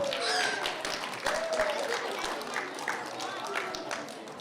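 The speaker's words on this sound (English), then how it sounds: "big round of applause, please" Crowd applause and clapping at a convention event, with some voices and cheers mixed in, steady and fairly loud throughout.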